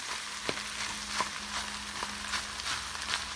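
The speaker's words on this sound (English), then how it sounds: "Just gonna let the onions cook down a little bit" Onions cooking down with bacon in a pan give a steady, moderate sizzle, with a few brief stirring clicks and scrapes spaced about every half second to second.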